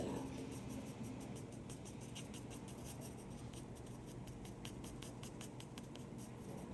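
Colored pencil on paper sketching dog fur: rapid, rhythmic short scratchy strokes repeat steadily, faint and close, with no talking.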